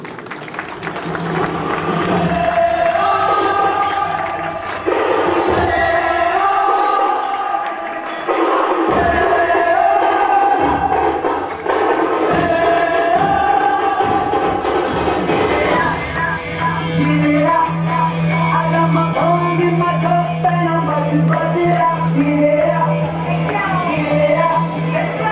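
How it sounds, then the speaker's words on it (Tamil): An audience at an Indian dance show in the Netherlands applauds and cheers over loud music, with clapping and shouts blending into the steady musical backing. "உங்கள் கரகோஷத்தோடு"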